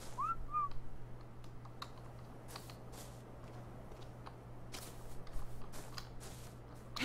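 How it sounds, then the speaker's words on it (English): A short whistle calling a mount in a dinosaur-taming survival video game comes early, followed by scattered keyboard clicks over a constant low electrical hum. "I'm going to whistle for my mount because I jumped off and forgot."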